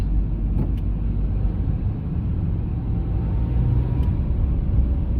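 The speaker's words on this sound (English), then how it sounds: "I'm currently driving down the countryside" A car drives along a countryside road with a steady interior engine rumble and road noise, continuous and moderately loud, with a couple of faint clicks and no talk.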